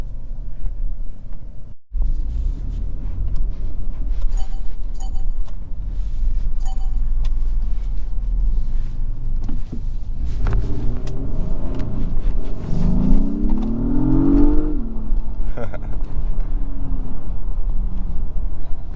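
A 2022 Acura MDX Type S Advanced SUV pulling onto a main road, heard from inside the cabin as a steady engine rumble with a rising acceleration sweep midway and some small interior rattles.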